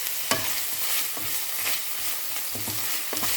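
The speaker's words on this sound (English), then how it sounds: "Then add 20 grams of minced pork and continue stirring until the meat is well cooked." Minced pork stirred in a hot pan, a spatula scraping in irregular strokes over a steady close sizzle of frying meat, with no voices.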